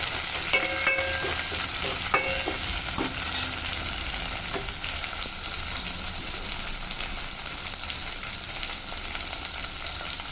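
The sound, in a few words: frying drumstick, ivy gourd and carrot pieces in a pan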